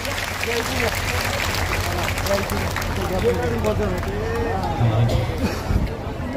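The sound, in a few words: crowd applauding to welcome monks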